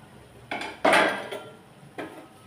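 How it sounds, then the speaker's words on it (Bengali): A metal lid comes off a pan of lote fish cooking with spices, giving a couple of close clattering knocks. The loudest clank is in the middle, with a fainter tap near the end. "ঢাকনা তুলে নিচ্ছি।"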